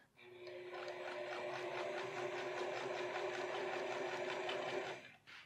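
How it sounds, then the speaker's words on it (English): A sewing machine stitches along the edge of a jeans flap piece in one steady, loud run of rapid needle chatter lasting about five seconds, starting and stopping cleanly. "now stitch along the edge of the flap piece"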